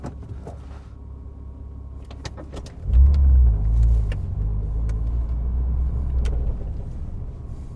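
A Porsche Cayman 987 engine driving at a Goodwood autosolo, a steady rumble that swells and grows louder near three seconds, then holds a strong low drone with faint clicks and no talk.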